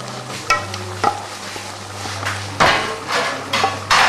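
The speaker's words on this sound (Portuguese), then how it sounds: "Depois do molho pronto, eu misturo esse creme de mandioca" A spoon stirs cassava cream into a shrimp sauce in a pot, with scraping and occasional knocks against the pan over a low background hum, several distinct clacks spaced irregularly.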